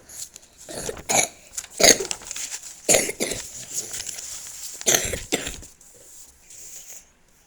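Several separate coughs, some in quick pairs, spread across a quiet room with short pauses between them.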